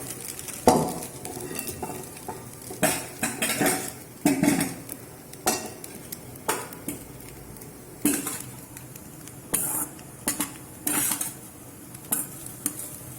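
Usili noodles being stirred in a pan, a metal spoon scraping and clinking against the pan in repeated strokes, with a faint sizzle underneath and no talking.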